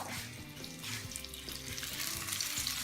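Crab cakes fry in a pan, a soft continuous sizzle and crackle heard up close but at low volume, with faint scraping or stirring bumps underneath.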